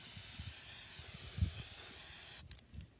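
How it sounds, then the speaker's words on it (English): A spray paint can hisses in a steady burst of about two and a half seconds while a controller is prepared for hydro dipping, then cuts off, leaving a few soft handling thumps. "shake it, and then you spray like that"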